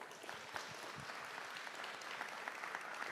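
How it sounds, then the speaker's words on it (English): A round of applause from the audience at a county candidate forum for a primary election, dense steady clapping that carries on through the whole stretch at even strength. "Please give them a round of applause."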